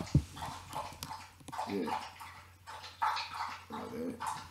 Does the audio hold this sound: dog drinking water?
yes